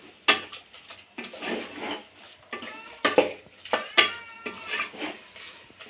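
Mutton boti fry with turmeric and salt stirred in a pan, a series of sharp spoon-on-metal scrapes and clinks in an irregular rhythm, close and fairly loud, with no voices.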